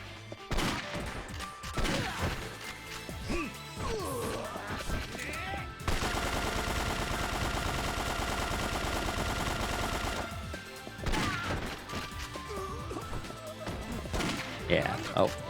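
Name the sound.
gunfire in the Yakuza 3 video game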